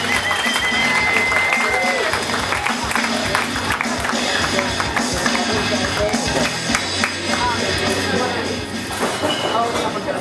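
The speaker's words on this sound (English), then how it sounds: "big round of applause to Lady Bizness" Dense audience applause runs steadily for several seconds at a PTA meeting, mixed with crowd noise and voices, loud and continuous before easing slightly near the end.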